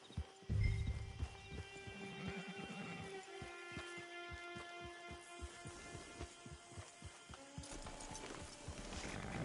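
Steady rhythmic hoofbeats of a horse galloping in a video game, close and clear, with a brief whinny near the start and a tonal musical backdrop throughout.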